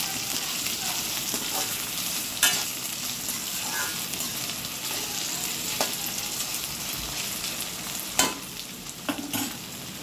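Chopped okra and green chillies frying in plenty of hot oil for a Gujarati Kathiyawadi bhindi shaak, a steady close sizzle with occasional sharper pops and stirring clinks.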